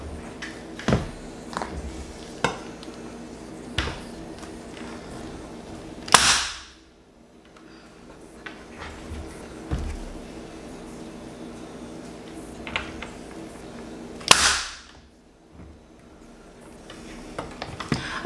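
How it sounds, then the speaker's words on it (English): Staple gun driving staples into a Dollar Tree Halloween porch sign and hat, with scattered sharp clicks and two louder, fuller snaps, close and alone against a quiet room. "This time I'm going to use a staple gun."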